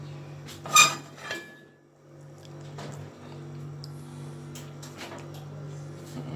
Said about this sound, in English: Get my skillet on.